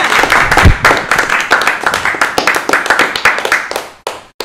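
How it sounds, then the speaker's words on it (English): Loud, dense applause with sharp overlapping claps from a stand-up comedy audience, sustained for several seconds before tapering off abruptly near the end. "Big round of applause for Mark Saltveit."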